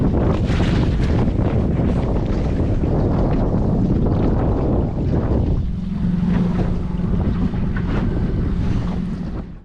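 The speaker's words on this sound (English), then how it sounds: "the wind picked up and it was just safer to go home at this stage" Strong wind roars across open water during spring pike fishing from a boat, a loud continuous buffeting rush with wave wash, no voices.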